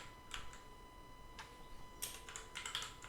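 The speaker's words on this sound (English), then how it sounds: "add a new combined layer, and then you type in there, type this in capitals" Faint, sparse keystrokes on a computer keyboard, a few scattered clicks and a short burst of quicker taps, quiet and close against a low background hum.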